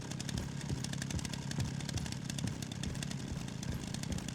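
A harsh, buzzing chainsaw engine in the video game Resident Evil Requiem drones continuously, its rough rapid pulsing steady and loud throughout.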